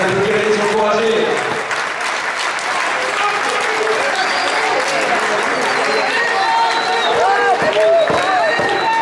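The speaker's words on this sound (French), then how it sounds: "vous pouvez les applaudir et les encourager" Spectators at a sports match applaud in a steady, loud wash of clapping, with cheers and voices mixed through the crowd noise and no break in the sound.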